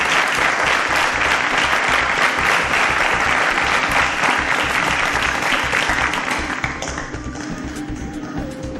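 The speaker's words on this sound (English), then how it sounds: "A round of applause for Ayobami." Studio audience applause for a quiz show contestant: loud, dense and sustained clapping that holds strong for several seconds, then eases slightly near the end.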